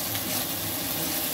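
Spice paste frying in a pan with green chili and chopped onion, giving a steady, close sizzle that holds evenly for the whole moment with no talk over it.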